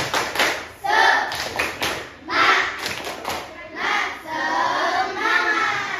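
A class of students performs a rhythmic clapping chant together, patterned claps and thumps alternating with loud group chanting voices in a classroom.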